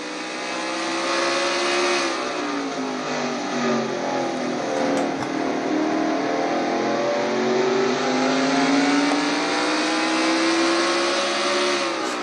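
A Castrol GTX Cup Series race car engine howls continuously through the turns, its pitch climbing toward about 8,900 RPM and sagging toward 4,800 mid-corner in smooth sweeps, loud and close with no talking.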